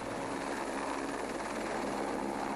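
Helicopter flying over a snowy stage of the 2010 Rally Sweden in the World Rally Championship: a steady, unbroken rotor and engine drone, fairly close and loud throughout, with no talking.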